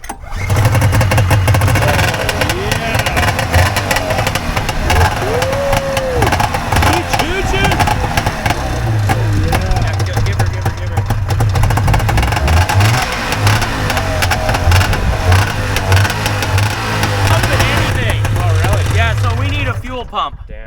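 A cheap, roughly $600 snowmobile engine fires up and revs loudly and roughly, its motor droning and surging close by for the whole stretch while people talk over it.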